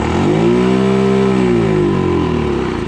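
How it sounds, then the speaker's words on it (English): A Honda Metropolitan scooter engine revs up in a single steady swell, its rising buzzy whine holding for a couple of seconds before easing back down, loud and close with no talk. "If we try to rev up, it cuts out after a while."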